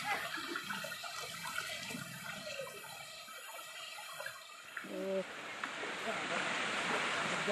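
River water rushing and splashing along a forest walking trail, a steady broadband wash that swells louder toward the end, with brief voices and footsteps partly over it.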